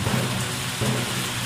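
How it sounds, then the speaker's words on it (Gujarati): Heavy stormy rain pours down in Vav, Banaskantha, with thunder, a dense loud hiss of rainfall and low rumbling swells underneath, steady throughout and without voices. "વાવમાં વાવાઝોડા સાથે તોફાની વરસાદ, વીજળીના તડાકા ભડાકા સાથે વરસાદનું આગમન"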